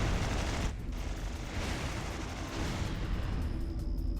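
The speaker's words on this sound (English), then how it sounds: "It's a sentry gun." A sentry gun fires in the strategy game Mental Omega with a steady, loud stream of rapid gunfire mixed with battle booms, continuous and close throughout.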